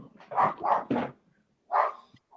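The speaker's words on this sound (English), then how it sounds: "Sorry, the dog's just going mental." A dog barks in a quick burst of three sharp barks, then one more after a pause, loud and close indoors.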